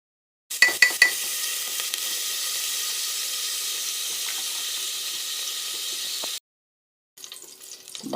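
Oil sizzling and frying in a pressure cooker set up for chana, a steady bright hiss after a few sharp clinks and stirs at the start, then silence and a faint hiss returning near the end.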